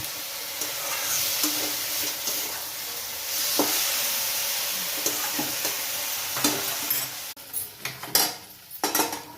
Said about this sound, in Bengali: তারপর কড়াইয়ে এটা ভালোভাবে নেড়ে নিল।